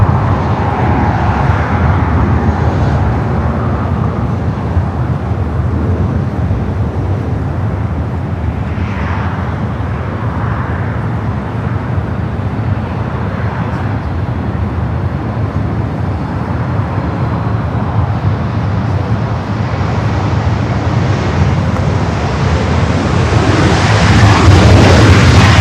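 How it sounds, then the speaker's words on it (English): A Southwest Boeing 737 MAX 8 arriving from SFO lands on runway 24 right at LAX, a sustained loud, rushing jet roar that swells toward the end. "Flight over to a Southwest Flight 699 is the flight number coming from SFO, 737 MAX 8"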